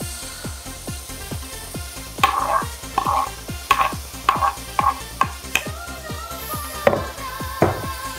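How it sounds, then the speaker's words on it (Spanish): Garlic and onion sautéing in a pan for seafood spaghetti, a loud steady sizzle with rhythmic, repeated scraping strokes of a utensil stirring close by. "Lo salteamos todo. Vamos a incorporar lo que es el ajo y la cebolla."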